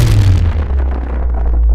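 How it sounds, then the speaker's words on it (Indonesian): A small explosion in an audio drama, with stone shards flying: a loud, deep booming blast with a heavy low rumble and crackling debris that slowly fades. "Energi dari aura keduanya bertabrakan, menimbulkan ledakan kecil yang membuat serpian batu berterbangan."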